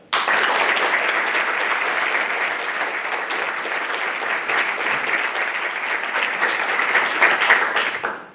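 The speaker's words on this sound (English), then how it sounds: "please join me in a warm round of applause" Steady, full audience applause fills a graduation ceremony for Nuclear Field A School classes, a dense continuous wash of many hands clapping that holds at a loud level and then cuts off.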